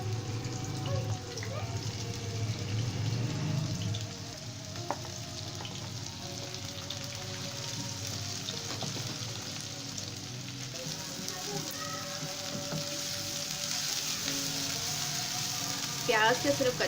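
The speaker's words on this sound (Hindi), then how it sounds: "आधा कप ऑयल डालने के बाद इसके अंदर प्याज डाल देंगे" Onions fry in hot oil in a kadai with a quiet, steady sizzle and a few soft clinks, while faint voices sit low in the background.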